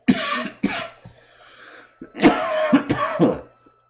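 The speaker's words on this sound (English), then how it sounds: "I'm not going to censor my weed smoke cough." A series of harsh, hacking coughs from smoking weed in two bursts separated by a short pause, close and loud, with some throat clearing.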